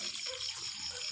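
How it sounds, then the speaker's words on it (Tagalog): Water running steadily in a rural provincial setting, a continuous soft gushing wash that stays close and even throughout without pause. "May tubig."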